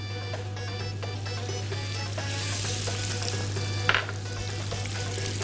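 Lamb tail fat sizzles and melts in hot oil in a pan. The frying is a loud, steady crackle that continues without a break, with a low constant hum underneath.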